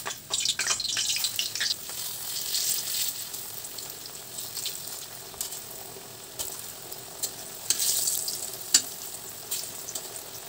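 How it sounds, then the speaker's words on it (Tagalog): Banana slices fry in a pan of hot oil, a steady crackling sizzle with sharper pops and spits scattered throughout, close and moderately loud with no talking. "yung ating saging, mag-prito na tayo."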